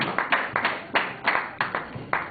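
An audience claps rhythmically in unison to greet a pastor stepping up at a Congolese independence-anniversary gathering, about a dozen evenly spaced claps, moderately close and without voices.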